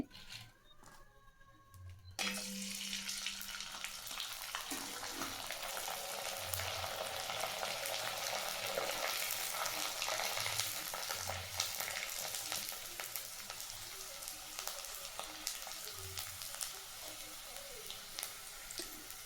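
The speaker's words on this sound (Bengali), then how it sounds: "আমি কিন্তু তোমাদেরকে পাঁপড়গুলো ভেজে ভেজে দেখাচ্ছি যে পাঁপড়গুলো কত সুন্দরভাবে ফুলে যাচ্ছে।" Rice papads frying in hot oil make a steady crackling sizzle that rises sharply after a quiet start and holds loud and continuous, with faint occasional stirring underneath.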